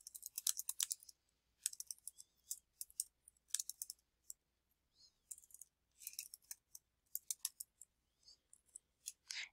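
Quiet typing on a computer keyboard while working in MS Publisher, with irregular bursts of crisp key clicks and short pauses between words, close and clear with no talking.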